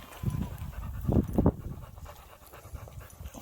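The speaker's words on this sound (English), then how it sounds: "Dog." A dog panting close by outdoors during a warm day exploring ghost towns, quick rhythmic breathy huffs with a few stronger bursts early on, then quieter breathing, no talk.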